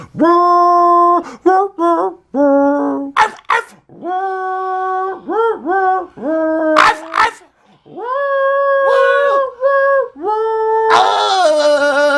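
Voices imitate dog barks, yips and howls, pitched to follow the melody of Silent Night in a steady rhythm, loud and close, with brief pauses between phrases.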